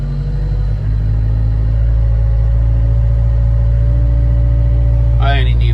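Farm tractor engine speeding up, a steady loud mid-pitched drone that climbs slightly and holds, with a brief squeaky sound at the end.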